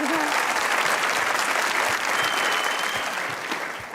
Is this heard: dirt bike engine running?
no